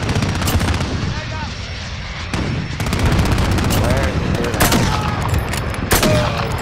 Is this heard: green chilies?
no